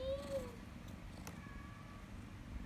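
A young cat gives a short, clear, high meow up close, followed by fainter, drawn-out mewing tones over a soft background hiss.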